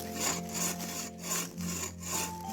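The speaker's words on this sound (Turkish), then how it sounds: "şu an ben ağaç kesiyorum" Hand saw cutting through a tree trunk in a wild forest, steady back-and-forth rasping strokes, about five strokes with brief pauses, close and clear with no talking.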